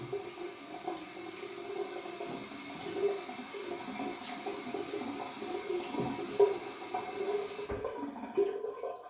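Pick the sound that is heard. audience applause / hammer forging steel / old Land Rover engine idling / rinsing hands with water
rinsing hands with water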